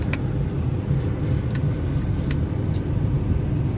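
A 2002 Honda Accord drives along with the gears shifted manually, giving a steady engine and road rumble heard from inside the car, with a few faint ticks and no talking.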